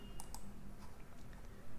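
Fingers tap on a computer keyboard in a short, quiet burst of a few irregular clicks close by, with no voices.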